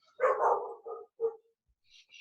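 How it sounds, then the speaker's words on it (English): A dog barks a few times close by, a longer first bark followed by two shorter ones, then faint high yips. "That's why I was holding him, to keep him from barking."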